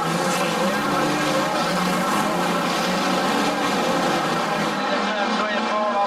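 Street stock race cars at a dirt speedway in Gunnedah, New South Wales, roar past in a steady, loud pack of engine drone that fades slightly near the end, with a race commentator talking over it.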